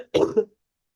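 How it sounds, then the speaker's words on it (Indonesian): One short, close cough, a double-pulsed rasp of throat clearing, comes from a speaker in a quiet room during an online maths class, followed by silence. "Maaf kalau belakangan ini saya kembali batuk lagi."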